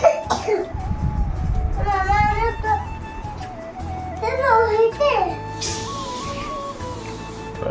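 A child coughs a few times up close, mixed with bits of children talking and a steady electronic tone in the background.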